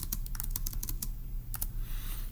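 Quick bursts of keystrokes on a computer keyboard as a puzzle answer is entered, crisp and close with a short pause mid-way.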